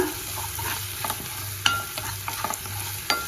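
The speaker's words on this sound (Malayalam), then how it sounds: "നന്നായി ഒന്ന് വഴറ്റിയെടുക്കുക." Chopped carrot and beans sautéing in a pan, a close steady sizzle broken by repeated scraping strokes of a spatula, with no talk.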